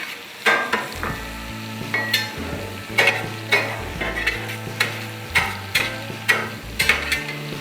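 Garlic fries on a Blackstone flat-top griddle while a metal spatula scrapes and taps the steel in a regular rhythm, each stroke a sharp clatter over a continuous close sizzle.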